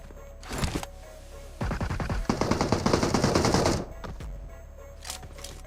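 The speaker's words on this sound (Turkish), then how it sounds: "Aşağıdan sıkıyor." Rapid automatic gunfire from below in the PUBG Mobile video game: a short burst, then a sustained loud rattling stream for about two seconds, followed by a few isolated shots, with no talk.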